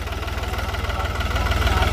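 A Farmtrac 45 or New Holland 3630 tractor engine runs steadily while driving an 8-foot Param rotavator, a close, continuous low throbbing drone with a regular pulsing beat that grows slightly louder toward the end.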